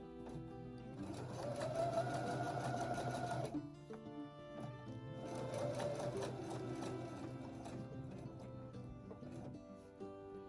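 Sewing machine stitching a patchwork vest over bumpy seams, close rapid mechanical chatter in two long bursts separated by a short pause, then lighter, quieter running, no talk.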